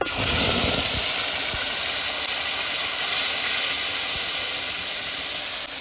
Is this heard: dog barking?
no